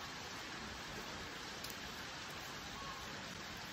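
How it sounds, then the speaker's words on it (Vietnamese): Steady rain pouring down, a dense even hiss of drops striking surfaces around a home, continuous and fairly close, with no voices over it. "trời mưa bắt đầu nó đổ xuống"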